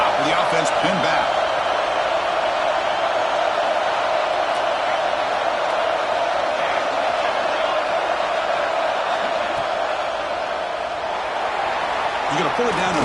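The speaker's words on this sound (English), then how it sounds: "this crowd coming to life here, trying to help the defense get a stop with the offense pinned back" A Michigan vs. Clemson football stadium crowd roars in a sustained, even wall of noise while the defense tries for a stop, with a commentator speaking over it.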